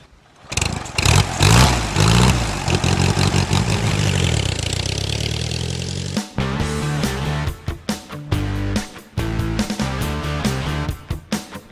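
An Ace motorcycle engine cranks and catches with a loud, rough roar, then settles into a lumpy, uneven idle with irregular pulses and blips, recorded close and loud with no talking.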